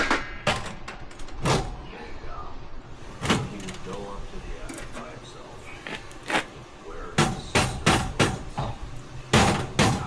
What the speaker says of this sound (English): guess I need a hammer.